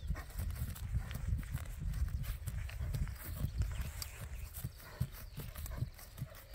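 A pure criollo horse walks on firm, hard ground, its hooves giving a quiet, regular clip-clop at a moderate distance, with no voices.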